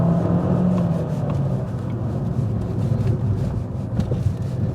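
A yellow Abarth 595 hatchback drives through bends on country lanes, its engine a steady low drone with road rumble and light wind noise, rising and falling slightly through gear changes, heard from inside the car.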